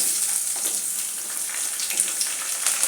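Chopped onions sizzling in hot oil with curry leaves for brinjal kulambu, a loud, steady, close crackling fry with a bright hiss throughout.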